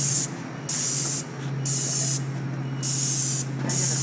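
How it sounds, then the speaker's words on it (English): A paint sprayer machine blasts paint onto a wall in repeated loud hissing bursts of about a second each, separated by brief pauses, over a steady low motor hum. "When you spray, you want to be level with it, okay?"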